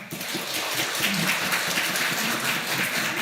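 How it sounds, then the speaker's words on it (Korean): A church congregation applauds at a Christmas service to welcome newly baptized infants, with steady, even clapping from a large crowd throughout, fairly distant and without talk. "우리 인사할 때 우리 큰 박수로 환영해 주시면 고맙겠습니다."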